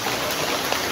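Rain falling steadily outdoors, a dense even hiss of drops at close range, unbroken for a brief moment.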